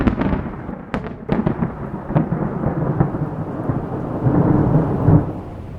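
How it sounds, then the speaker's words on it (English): Thunderstorm on a rainy night, with sharp thunder cracks and rolling rumbles over a steady wash of loud rain, close and full, no voices. "Rainy night, just like this one"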